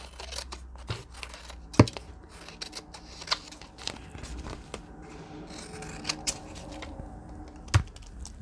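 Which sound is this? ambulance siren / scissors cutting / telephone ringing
scissors cutting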